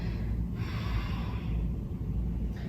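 A long, breathy exhale during prenatal yoga, close and steady over a low background rumble, ending with a short faint breath.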